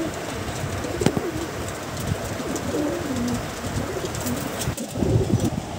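A female green-black Giribaz pigeon coos in low, repeated throaty calls close by, over a steady background hiss.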